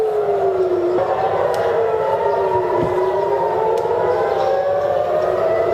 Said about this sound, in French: Jérusalem et Tel Aviv se sont réveillés au son des sirènes d'alerte